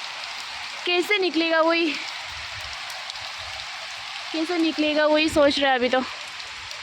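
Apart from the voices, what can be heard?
heavy rain falling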